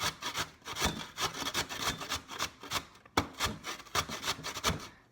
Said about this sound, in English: you can either use a knife to cut them up like that, or you can get a cheese grinder